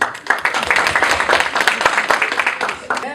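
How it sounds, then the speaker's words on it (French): Audience applause at the opening of a peace conference, a moderate crowd clapping steadily throughout, mixed with some background voices. "Merci de l'applaudir"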